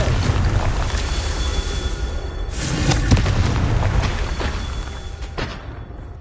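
A Confringo fire spell explosion in Hogwarts Legacy, a loud sustained rumbling boom with crackling bursts that fades over several seconds, alone with no talk.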